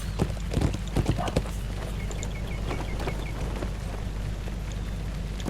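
Horse hooves clip-clopping in the video game Lord of the Rings Online, a quick run of hoofbeats early on that slows and fades, with a steady game ambience and a voice speaking.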